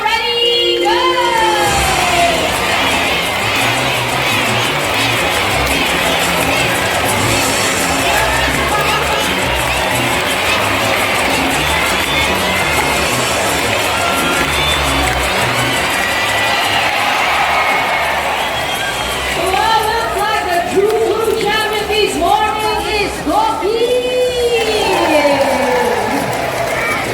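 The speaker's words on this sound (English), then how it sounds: "come on, you have to cheer louder" A crowd at a bird show at Jurong Bird Park in Singapore cheers, shouts and whoops continuously, loud and close, with children's voices in the mix and louder bursts near the end.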